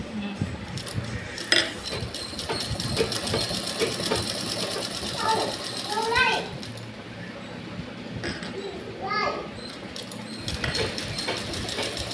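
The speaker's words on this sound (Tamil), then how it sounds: "கொஞ்சம் கட் பண்ணி படிமான தையல் போட்டால் முடிஞ்சு" A sewing machine stitches a round pillow, running steadily throughout with fast rhythmic chatter, close and fairly loud, with light clinks and a voice talking at times underneath.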